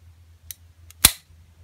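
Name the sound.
Ruger LCR revolver trigger clicking during dry fire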